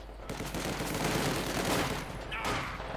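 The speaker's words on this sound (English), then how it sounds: "MG42 was able to reposition himself to open up on the conscripts there" Sustained MG42 machine gun fire rattles continuously from the Company of Heroes 2 strategy game, a dense, steady burst of rapid shots lasting the whole moment.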